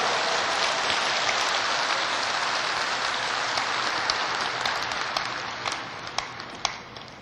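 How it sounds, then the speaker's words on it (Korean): A large congregation at a religious gathering breaks into loud, sustained applause, a dense, steady wash of many hands clapping together that holds throughout, with a few sharper individual claps standing out near the end. "그렇다면 박수 한번 크게 하나님 좋아할 수 있게 해보지."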